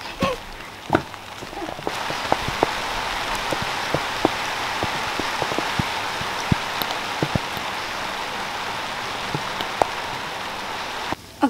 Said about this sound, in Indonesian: sudah hujan ternyata